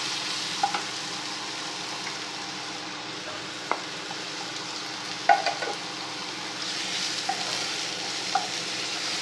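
Ginger garlic paste fries quietly in oil, a soft, even sizzle with occasional sharp clicks and scrapes of a utensil stirring the pan, no one talking.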